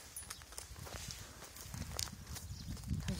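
A horse walking at a rescue facility, its hooves striking the ground in an uneven clip-clop of steps, fairly close, with some faint background noise and no clear talk.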